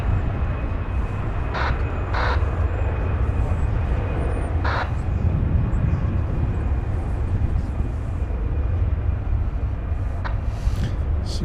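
An American Airlines airliner taking off from runway 18 left at Dallas Fort Worth Airport produces a loud, continuous, broadband jet roar that holds steady for the whole stretch, with a few faint voice bursts underneath.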